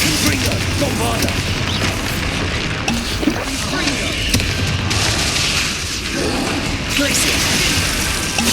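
Spell blasts and explosions in the video game Hogwarts Legacy: dense, loud booming impacts and crashing bursts rumble continuously through a combat scene, with a voice shouting spell incantations over them.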